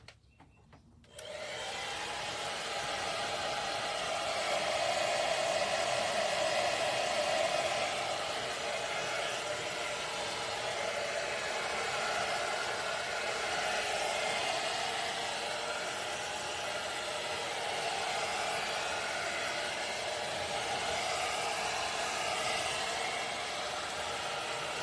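A hair dryer switches on and runs as a steady, loud whooshing blow, drying paint on a DIY wooden sign, with no talk over it.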